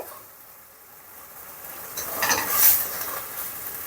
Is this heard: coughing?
no